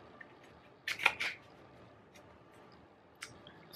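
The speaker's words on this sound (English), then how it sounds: "shuffle this up." Playing cards are shuffled in a quiet room, giving a faint, brief riffle burst followed by a softer rustle a couple of seconds later.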